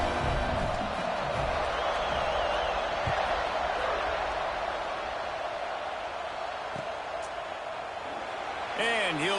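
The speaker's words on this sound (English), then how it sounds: "this crowd is buzzing after that last score" A football stadium crowd at an Arkansas game keeps up a dense, even murmur through the whole stretch, sitting beneath a commentator's ongoing talk, with a few faint thumps and whistles near the end.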